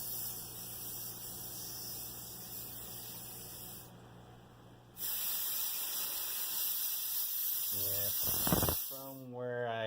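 Gas hisses steadily from a leaking aquarium CO2 regulator, a close constant hiss that fades briefly and then returns louder, followed by a few short clicks and squeaks.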